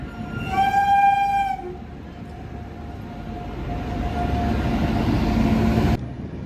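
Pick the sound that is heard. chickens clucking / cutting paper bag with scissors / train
train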